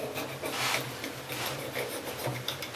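A screen spline tool presses a boom pole's new grip down into a corner, giving a steady, close scraping rub with soft rasping strokes that swell and ease across the moment.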